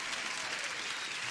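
A short burst of dense, steady applause sound effect plays through a live futures trading stream, a continuous wash of many clapping hands at an even level with no pauses.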